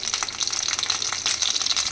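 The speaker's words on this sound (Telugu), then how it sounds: "వంకాయలు వేయించుకోవడానికి 1 స్పూన్ నూనె వేసుకొని వంకాయలు ఇలా వేయించేసుకోవాలి" Eggplant (brinjal) frying in a spoonful of oil in a pan in a home kitchen, giving a steady, close bright sizzle with soft crackle and no talking.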